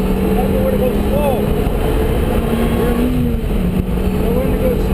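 A race car engine screams at full throttle, loud and continuous, with a droning pitch that shifts as the car moves and a coaching voice speaking over it.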